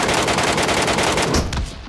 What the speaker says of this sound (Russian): А, еще и сзади уже выстрелы.